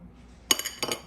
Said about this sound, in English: And we're just going to be mixing that so that it's fully mixed.